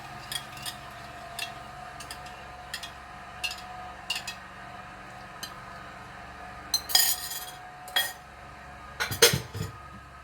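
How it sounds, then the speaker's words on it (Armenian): Metal pot and lid clink and clatter intermittently as a cooking pot of khashlama stew with tomato paste and potatoes is covered, with light scrapes and taps close by in a quiet kitchen. "Կաթսայի բերանը ծածկում եմ։"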